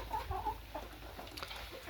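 Faint chicken clucks, a few soft calls over a low steady background hum.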